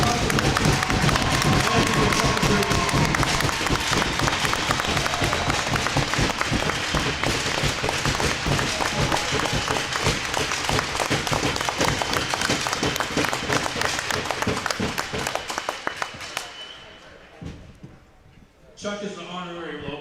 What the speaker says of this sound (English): Please give a round of applause to the family who made hockey possible.